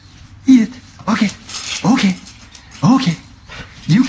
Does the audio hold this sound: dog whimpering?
yes